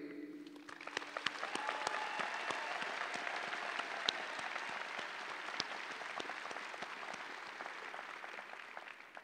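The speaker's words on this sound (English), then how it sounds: "you most certainly deserve a very enthusiastic round of applause from all of us that are here today" Enthusiastic audience applause at a doctoral hooding ceremony runs throughout, a wash of many hands with individual sharp claps standing out, heard from a distance and fairly faint.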